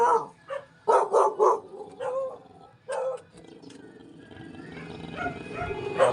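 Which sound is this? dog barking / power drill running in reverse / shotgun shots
dog barking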